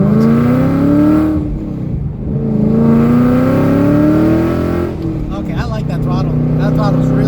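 A boosted 2015-2017 Ford Mustang on Steeda springs with 3.73 gears revs hard, its engine note climbing in loud sweeps, dropping briefly between pulls, then building again while people talk over it.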